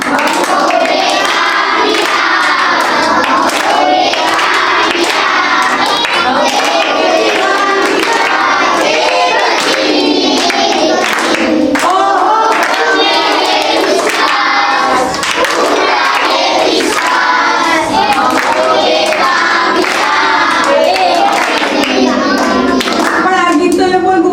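Children in a Panchatantra festival session in Khodiyarnagar clap along in rhythm while singing together, a dense, loud, continuous mix of hand claps and young voices.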